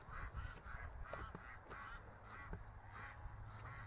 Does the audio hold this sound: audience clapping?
no